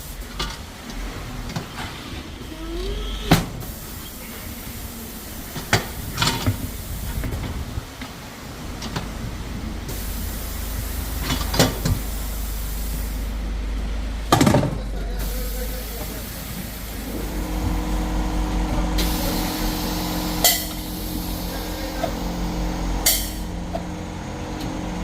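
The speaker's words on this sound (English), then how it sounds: "So this machine removes the tire from your alloy wheels." Tyre changer machine prising a punctured tyre off an alloy wheel, with hissing air bursts, sharp clicks and mechanical clunks over a steady workshop hum, plus some background voices.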